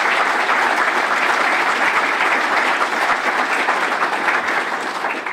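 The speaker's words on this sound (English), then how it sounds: "Can you give yourselves a round of applause?" Loud, continuous applause from the audience at a United Way annual meeting, a thick, even roar of many hands clapping that holds steady and begins to ease at the very end.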